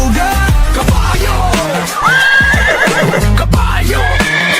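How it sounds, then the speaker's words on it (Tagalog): A horse neighs in several loud, shrill whinnying bursts with some hoof clatter, close and alone with no talking. "Kabayo!"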